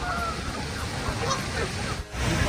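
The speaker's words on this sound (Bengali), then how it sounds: "পুকুরের মধ্যে শত শত পাখি খেলা করছে" Several geese and ducks honk on a pond in America, over a noisy outdoor background, with scattered calls overlapping and moderately near.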